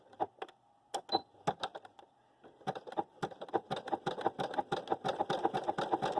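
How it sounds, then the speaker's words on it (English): Sewing machine running a straight seam to close a fabric tube, starting with a few separate stitches and then settling into a steady, close chatter of needle strokes. "So I'm just going to sew straight down here to make it a tube."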